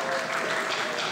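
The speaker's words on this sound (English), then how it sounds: "Please clap for yourselves." Audience applause at the grand final of a debating competition, a brief, fairly faint burst of continuous clapping from a crowd.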